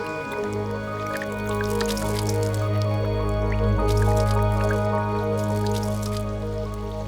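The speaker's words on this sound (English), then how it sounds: "Watch what happens when I pour water on them." Water poured onto the broad leaves of a taro plant, trickling and dripping in scattered small drops over a steady low hum of background music.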